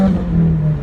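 Straight-piped 2015 Subaru WRX engine at high revs, a loud, sustained raspy drone held steady for a short moment with no talking.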